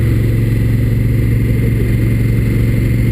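2016 Honda Africa Twin motorcycle engine droning loud and steady up close as it accelerates, with gear changes blending smoothly without a break in the sound.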